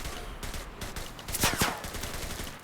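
Gunfire in the Enlisted video game: a fast burst of automatic shots crackles through the middle, among scattered single reports and battlefield clatter, all fairly close and without talk.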